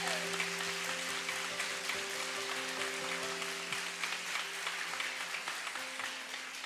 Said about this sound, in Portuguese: Aplaude e glorifique esse Deus.